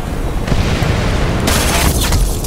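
A grenade blast in the online shooter Ghost Recon Phantoms, a loud, heavy boom with rumbling low-end tail amid ongoing gunfire, close and forceful.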